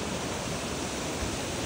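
A stream of rushing water after morning rain roars loudly and steadily, a continuous broadband wash with no pauses and no voices.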